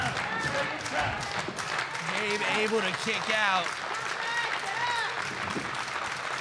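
Wrestling crowd at a Blood Sweat Tears Wrestling championship match cheers and claps steadily throughout, a dense roar and applause under an excited commentator's voice.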